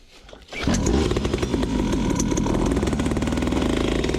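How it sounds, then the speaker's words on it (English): A cheap small dirt bike engine sputters to life after a brief quiet moment and settles into a loud, steady, buzzing idle that carries on without talk. "let's try to start it once we get it to on"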